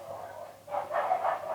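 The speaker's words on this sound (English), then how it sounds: "now there are some dogs barking" Dogs bark somewhere off in the distance, a muffled run of two or three faint overlapping barks in the background of a quiet room.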